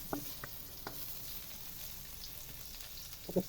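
Ginger sizzles and fries softly in a pan as tinola fish soup with blue marlin gets started, a steady quiet hiss with a few clinks of stirring near the start and end.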